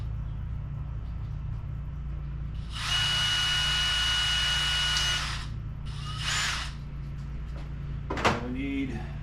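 A cordless power drill runs in a steady burst for a couple of seconds while boring holes in a lid, then gives a shorter second burst, with a faint clatter afterward.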